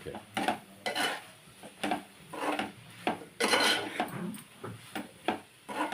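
A spoon scrapes and stirs chili powder frying in oil in a pan for a drumstick and tomato curry, with repeated close metallic scrapes and clinks in an uneven rhythm.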